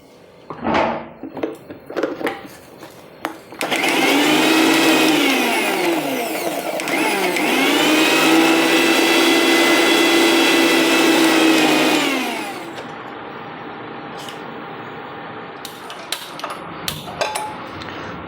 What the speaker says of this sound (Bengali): মিক্সিং জারে দিয়ে দিচ্ছি একটু আদা আর দেব কটা কাঁচা লঙ্কা মানে ঝালটা আপনারা আপনাদের স্বাদ অনুযায়ী দেবেন দিয়ে এটাকে আমি একটা ফাইন পেস্ট তৈরি করে রাখবো